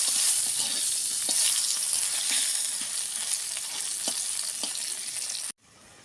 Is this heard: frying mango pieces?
yes